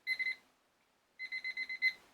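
Electronic timer beeping while being set at a junk journaling craft table: a quick burst of three beeps, a pause, then a run of six or so evenly spaced beeps, close and clear with no talking.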